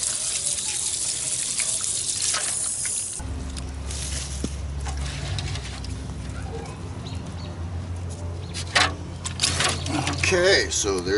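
Freshly harvested ginger is rinsed under a running tap: steady, close splashing and gurgling water throughout, with the flow and spatter shifting as the roots are turned in the stream.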